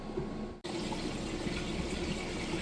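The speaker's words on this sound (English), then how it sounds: "Just wanted you to get a chance to hear the drain working nice and fast." Maytag Bravos XL washer draining water after its first wash cycle, a steady loud rushing and gurgling flow that starts abruptly after a brief gap and continues evenly.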